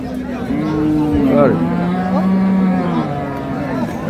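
A Jersey cow moos loudly and close by at a cattle market, a long, drawn-out low call that wavers in pitch, with no other sounds over it.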